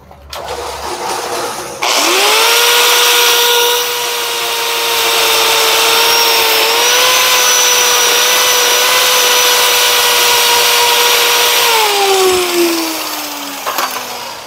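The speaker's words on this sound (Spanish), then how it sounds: "Vamos a gratear." An angle grinder spins up and grinds down a weld on a shortened 4-inch Chevrolet C70 driveshaft tube, a loud sustained whine with steady pitch that drops as the tool winds down near the end.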